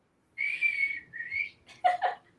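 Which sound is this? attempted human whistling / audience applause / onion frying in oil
attempted human whistling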